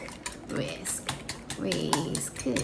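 A whisk clattering briskly against a bowl while preparing kimbap, quick irregular metallic taps and scrapes, with a voice talking over the stirring.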